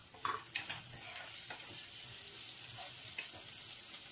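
Boiled corn tipped into vegetables cooking in a pan for tomato pasta red sauce, giving a soft steady sizzle with a few quick stirring scrapes near the start, close and fairly quiet.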